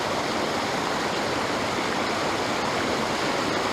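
A waterfall in Japan pours over rocks, a steady loud broadband rush of falling water filling the whole clip without pause or voices.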